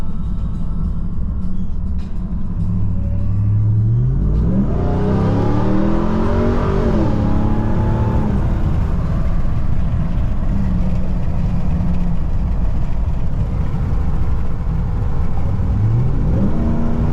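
A Ram TRX pickup truck's engine revs and pulls hard out on a drive, rising in pitch through a couple of long accelerating sweeps, then settling into a loud, steady drone with another climb starting near the end.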